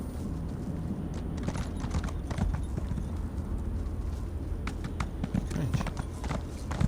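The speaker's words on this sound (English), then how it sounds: "Get that horsey out." Horse hooves clip-clop steadily in Elder Scrolls Online, a close, even walking rhythm on the ground with faint ambient noise underneath.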